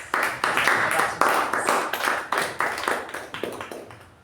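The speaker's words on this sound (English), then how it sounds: "Can we have a round of applause?" Audience at a Toastmasters club meeting claps in a sparse, uneven patter of individual hands, fairly close, gradually thinning and fading toward the end.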